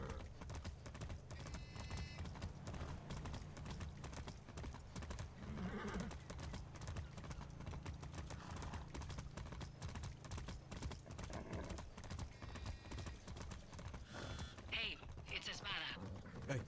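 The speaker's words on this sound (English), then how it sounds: "I like the horses, man." A horse in the video game Far Cry 6 clip-clops in a steady, quiet rhythm of hoofbeats while someone talks over it, with a brief whinny-like sound near the end.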